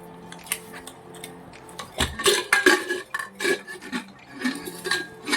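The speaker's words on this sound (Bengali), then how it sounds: "প্রেশার কুকারটা ধোয়া আছে যদিও, আরেকবার ধুয়ে নেবো" A pressure cooker being rinsed and scrubbed, with irregular metallic clanks, scrapes and knocks of the pot close by, growing busier after a quiet start.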